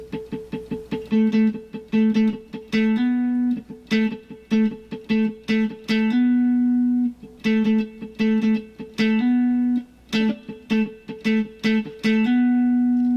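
Funky R&B guitar chords, the pick strummed rapidly up and down in short choppy bursts, played alone with clear rhythmic phrasing and repeated patterns.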